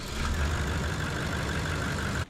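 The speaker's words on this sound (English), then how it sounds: "We let the car run for a couple minutes." A car engine idles after an oil change, a steady low rumble with an even hum running for about two seconds before cutting off abruptly, no voices present.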